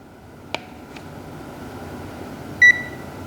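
A cheap £15 stud finder gives a single short, clear electronic beep while calibrating, alone over a low steady room hum with a couple of faint clicks before it.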